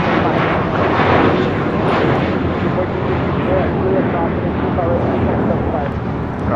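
A JetBlue Airbus A321 takes off from LAX bound for Fort Lauderdale, its engines a loud, continuous roar with a gusty, wind-buffeted texture that stays steady across the clip.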